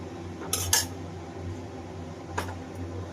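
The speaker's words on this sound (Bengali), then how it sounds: "এবার একটু নাড়িয়ে নেব, ভালো করে নাড়িয়ে নেব" A utensil clatters against a pan as soybeans are stirred, a few sharp metallic scrapes and knocks over a low steady kitchen hum, with no talking.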